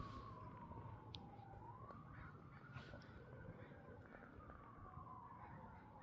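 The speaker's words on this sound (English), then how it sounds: "Lots of sirens." Sirens wail far off on Christmas Day in Chilliwack, a faint rising and falling tone drifting over a constant low outdoor rumble.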